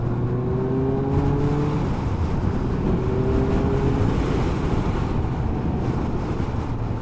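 A 2019 Suzuki GSX-S750 motorcycle engine drones steadily while riding, its hum shifting pitch under heavy, constant wind buffeting on the microphone.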